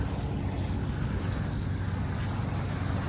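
A sailboat motoring at sea in light wind, its engine a steady low drone under constant water and wind rush, with no talk.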